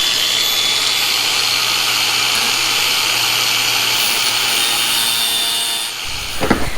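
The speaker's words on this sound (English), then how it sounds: "So I'm gonna take the grinder real quick, cut that little tab" An angle grinder cutting a small metal tab during the fitting of an IMS fuel tank on a 2019 FE 350 motorcycle, giving a steady, loud abrasive whir that runs for about six seconds and then winds down with a few clunks.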